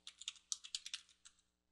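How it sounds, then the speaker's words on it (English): A short burst of about a dozen quick keystrokes on a computer keyboard as a username is entered, crisp and close, then quiet. "I'm being prompted for my username now, so I'll type that in."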